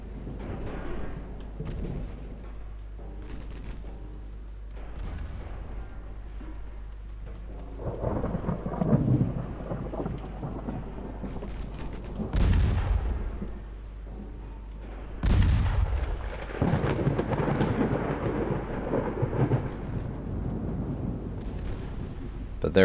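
In the naval strategy game Ultimate Admiral Dreadnoughts, during a 1926 Norwegian campaign battle, naval gunfire booms and shell hits roll out repeatedly, with several sharp, heavy blasts over a low rumbling background.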